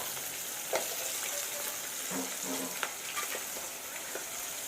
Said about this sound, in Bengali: এদিকে আমার মাছ ভাজা হয়ে যাবে, মাছের মাথা